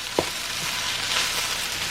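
Rice frying and heating in an oiled pan for shrimp fried rice makes a continuous dense sizzle, with one brief utensil tap near the start and no talking.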